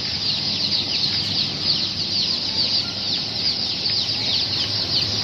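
Large white chickens in a poultry sale setting cluck and chatter continuously in a dense flock, a steady busy din close by with no speech.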